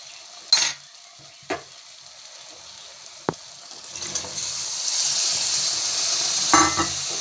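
Whole chickpeas stir-fried in oil in a pan: a few loud spatula knocks at first, then a steady sizzle rises and fills the second half, with occasional stirring scrapes, close and without talk.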